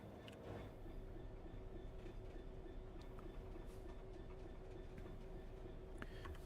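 A Santa Fe EMD F7 diesel locomotive in the Train Sim World 3 game gives off a steady, continuous rumbling drone with faint rail clatter, loud and unbroken throughout, and no voices.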